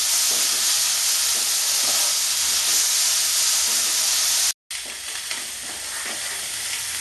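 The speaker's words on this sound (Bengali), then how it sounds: "মাছটা একটু এইভাবে লাল লাল করে ভেজে নিতে হবে" Prawns fry in a hot pan with a loud, dense, continuous sizzle and hiss, close up and without talk, broken only by a split-second dropout partway through.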